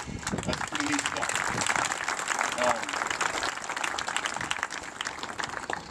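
Audience applause at a celebration of life memorial for a coach, a steady wash of many hands clapping in a large room for about six seconds, with voices mixed into the crowd.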